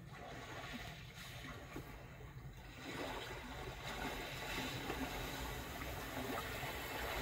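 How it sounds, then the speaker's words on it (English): Gentle, steady wash of sea water with soft lapping and a continuous broadband hiss, growing slightly fuller partway through; no voices. "Calm sea waters, you hear that?"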